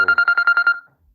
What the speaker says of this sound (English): That's a phone call from my cousin.